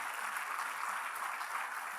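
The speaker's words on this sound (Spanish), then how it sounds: "esos michis aplausos parecen del estadio" Sustained applause from a church congregation, a steady broadband clatter of many hands clapping together throughout, fairly close and even in loudness, with no voices rising above it.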